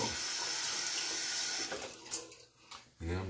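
A tap runs as a hard bristle brush is wet under it at a bathroom sink, a steady hiss of water for a couple of seconds that breaks into splashes before resuming.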